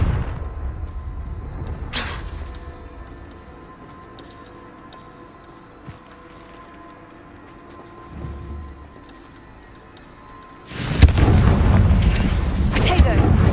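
A fire spell explosion in Hogwarts Legacy erupts loud and broad near the end after a long stretch of quiet ambience, with an earlier brief sharp crack.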